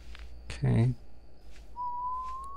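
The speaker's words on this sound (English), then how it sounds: "Bro, stop whistling, man!" A thin, steady whistled tone in the video game Heartbeat Monitor x Pomberito rises slightly near the end, following a burst of voice and a few scattered game sounds.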